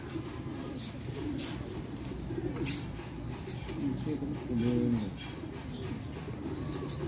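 Soft, low coos of rare Sialkoti green-beaded pigeons repeat a few times over a steady outdoor background, with a short clearer burst of cooing near the end.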